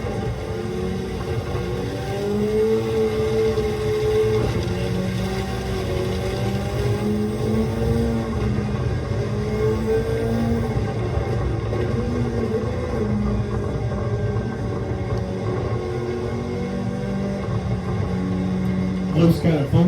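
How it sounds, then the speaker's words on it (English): A turbocharged six-cylinder race car runs at full boost during a race at Spa, a steady droning engine note heard from inside the car under continuous talk. "you get that 6-cylinder up on the turbo, full boost"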